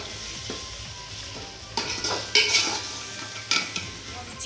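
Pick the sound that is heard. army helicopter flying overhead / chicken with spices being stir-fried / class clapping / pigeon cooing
chicken with spices being stir-fried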